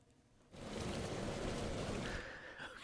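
Watery sound effect layer from a hip hop pop mix, a soft broadband rush like pouring or rain that swells in after a quiet start and holds steady, fairly faint and alone.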